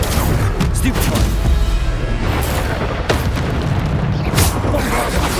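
Bombarda spell explosions in Hogwarts Legacy, loud booming blasts that recur in bursts over a dense, noisy battle din of heavy impacts and effects.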